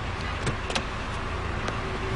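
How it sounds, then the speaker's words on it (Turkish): A car pulls up nearby, its engine rumbling steadily with a few short mechanical clunks and whirs, like a power window moving. "Araba gelmiş."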